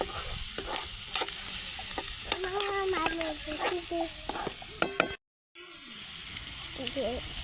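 Tomatoes sauté in a pan for whole masoor curry, a steady sizzle with repeated spatula scrapes and clinks, a brief cut to silence near the end before the frying resumes.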